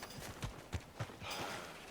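Horse hooves from Red Dead Redemption II clop in a few distinct beats, moderately close, followed by a rising breathy rush of game ambience with no talk.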